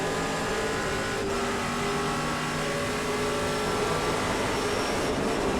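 Trans Am race cars at Portland International Raceway running side by side, a continuous loud engine roar with steady droning tones, no voices heard.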